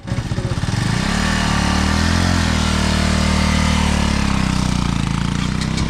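A motorcycle engine strains under load, starting with a pulsing putter and then swelling into a loud, steady, labouring drone that wavers slightly in pitch as it holds on.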